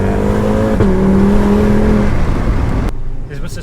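Loud and close, a 516 bhp Audi RS3 five-cylinder engine revs with a steady, rising drone for about two seconds, then eases to a lower rumble that cuts out abruptly near the end.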